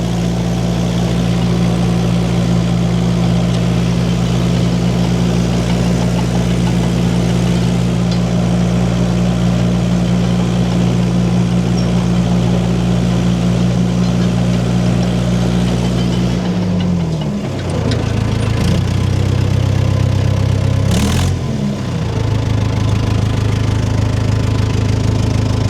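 An old tractor engine drones on steadily at a low pitch close by, dipping briefly twice near the end before settling back into its rumble.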